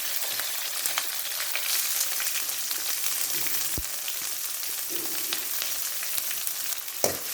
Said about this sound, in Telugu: కరివేపాకు, పచ్చా దంచుకున్న తెల్లగడ్డలు, ఆనియన్స్ వేసుకొని వేయించుకున్నాం